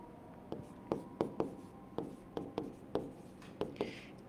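A pen scratches across paper in short, separate strokes, roughly a dozen crisp scribbles spaced unevenly, close and fairly quiet with no talk.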